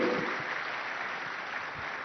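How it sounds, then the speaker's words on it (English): Audience applause at a large summit event, a steady dense wash of clapping that stays even and fairly faint throughout, with no voices over it. "Give yourselves a round of applause"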